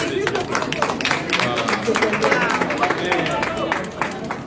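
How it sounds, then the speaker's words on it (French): Audience applause with scattered claps and background crowd chatter, a steady wash of clapping throughout, mixed with voices, at an event honoring an African inventor of plant-based electricity in Congo. "Il faut applaudir"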